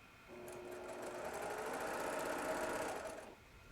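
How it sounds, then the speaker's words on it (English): A high-end home sewing machine used for quilting runs at speed, giving a fast, even mechanical whir that ramps up, holds steady and then winds down, faint and close with no talking. "I basically have a Cadillac sewing machine or a BMW sewing machine"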